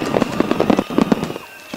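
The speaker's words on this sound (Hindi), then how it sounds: "चारों तरफ पटाखों की आवाज गूंजती सुनाई दी।" Fireworks explode in the sky during a celebration, heard as a quick run of sharp, crackling bursts for over a second. The bursts then give way to quieter background noise.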